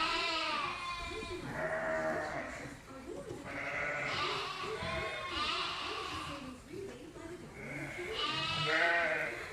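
Sheep on a farm flock of around a thousand bleat repeatedly and loudly up close, overlapping calls from several animals in quick succession with little pause between them.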